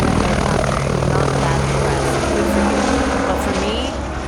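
A helicopter taking off in Greenland, heard from inside the cabin as a loud, steady rotor and engine roar filling the whole clip.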